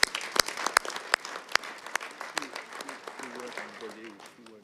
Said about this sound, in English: a big round of applause to you guys